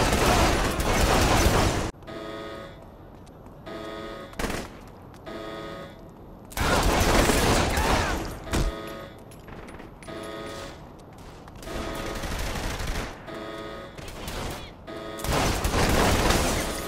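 Bursts of game gunfire from Saints Row 3 Remastered on hardcore difficulty, loud broadband volleys that come and go across the clip with quieter stretches of mechanical game sound between them.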